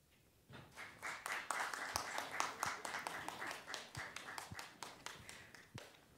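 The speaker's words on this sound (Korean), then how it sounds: "고생해주신 학우 여러분들께 진심으로 축하의 박수를 보내드립니다." A room full of students and guests at a university award ceremony for a lifelong education program contest applauds together, steady crowd clapping that swells in after a quiet start and carries on for several seconds.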